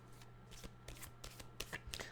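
Tarot cards shuffled by hand at close range, a steady run of soft riffling flutters and crisp slaps with a few sharper card snaps near the end, over a faint low hum.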